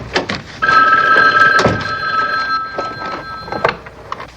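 An old telephone bell rings in repeated loud bursts in a kitchen at breakfast time, with background sounds between the rings.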